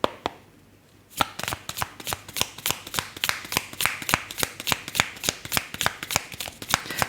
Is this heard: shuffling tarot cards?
yes